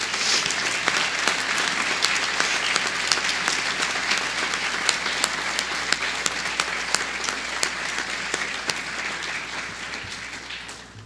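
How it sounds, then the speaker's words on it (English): An auditorium audience at a university academic recognition ceremony gives a long, steady round of applause, dense overlapping claps with some sharp individual hand claps standing out, tapering off near the end. "If you could join me in giving Ryan and all of our recognized students here tonight one more round of applause"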